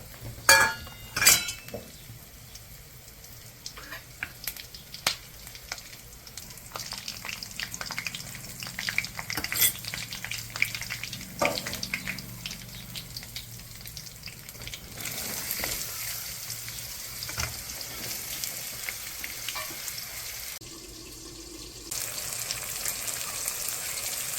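Oil sizzles and crackles in a pan with curry leaves, cinnamon, red chillies and sesame, with a louder hissing burst partway through as hot water hits the hot surface, plus occasional utensil clinks.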